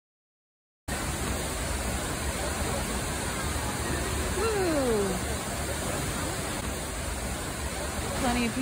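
Misol-Ha waterfall roaring as a dense, steady broadband rush heard from nearby, starting abruptly after a short silence, with a faint whistle-like sweep passing through midway.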